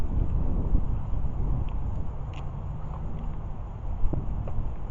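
Low, rumbling wind buffets the camera microphone continuously in a cemetery in Corsicana, a muffled roar with occasional gusts and no speech.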